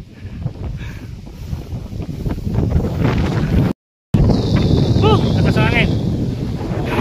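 Strong wind buffets an outdoor microphone during a rainy Philippine outing, a loud continuous roar and rumble with gusting surges, briefly cut out midway, while faint voices sit under the noise.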